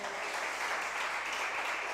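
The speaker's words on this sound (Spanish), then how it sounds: "Dele ese aplauso al Señor" Church congregation applauding during a Spanish-language service, a steady, even wash of clapping heard from some distance, moderately faint and continuous without pause.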